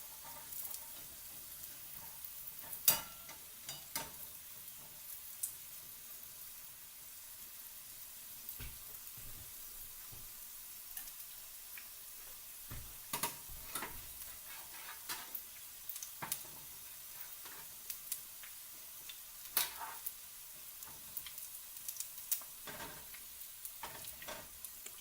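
Filipino lumpia egg rolls fry in hot oil, a steady soft sizzle heard up close with occasional sharper pops and crackles as the rolls are turned.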